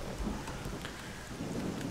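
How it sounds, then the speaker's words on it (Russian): Rain and a thunderstorm in S.T.A.L.K.E.R.: Call of Pripyat: a steady hiss of falling rain over a deep rolling rumble of thunder, moderately loud with no break and no talking. "Дождь, гроза, слякоть."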